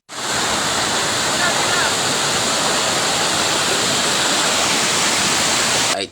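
A waterfall roars with loud, steady rushing water, a dense broadband hiss that stays constant and close for the whole stretch.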